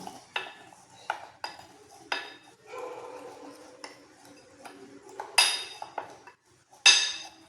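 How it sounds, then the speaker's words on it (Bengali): A spoon stirs dry ingredients with powdered sugar in a bowl, giving a string of sharp scrapes and clinks against the sides at irregular intervals, with quieter gritty swishing between the louder knocks. "শুকনো উপকরণগুলি একটা চামচের সাহায্যে খুব ভালোভাবে আগে মিশিয়ে নিচ্ছি।"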